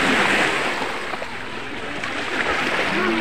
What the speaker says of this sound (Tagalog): ang lakas ng alon dito sa Bituon Beach